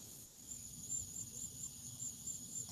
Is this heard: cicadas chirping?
yes